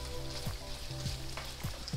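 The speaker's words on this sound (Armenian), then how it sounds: "ավելացնելուց հետո տոմատի մածուկը տապակում եմ 2 րոպե, ընթացքում խառնում եմ" Ground meat with tomato paste fries in a pan for moussaka, a steady close sizzle broken by a few soft scraping stirs with no talking.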